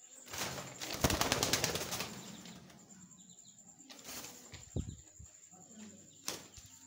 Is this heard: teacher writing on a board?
no